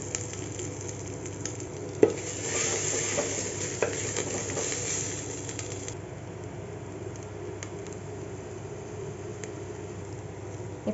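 Mustard seeds, cumin and asafoetida with spice paste frying in two spoons of hot oil for rasam, a steady close sizzle with light stirring and a couple of sharp pops.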